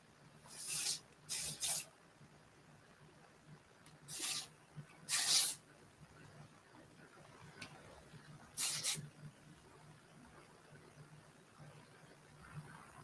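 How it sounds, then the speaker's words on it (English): A spray bottle misting a lace wig, heard as several short, sharp hissing bursts, some in quick pairs, close to the mic against a quiet room hum. "So I'm going to spray this side now."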